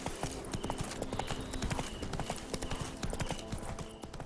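Horse hooves clip-clop steadily in The Witcher 3, a dense, continuous run of galloping hoofbeats close up, with game ambience underneath.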